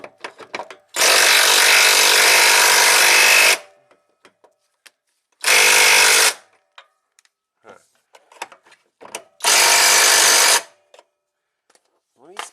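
An impact wrench works the rusty carrier bearing bolts on a Jeep Grand Cherokee in three loud, close bursts of roughly three, one and one seconds, separated by quiet gaps with small clanks and taps.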